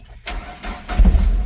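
A 2014 Suzuki Carry pickup engine starts with a sudden crank, then settles into a close, low, rough rumble that swells toward the end.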